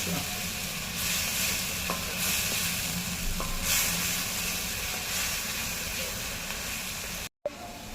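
Grated coconut fries in oil for a Konkan-style stuffed eggplant dish, a loud, steady sizzle broken by a few scraping stirs and a brief cut of silence near the end.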